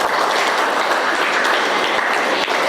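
Classroom applause fills the whole stretch, a dense steady clatter of many hands clapping at close range with no talk over it.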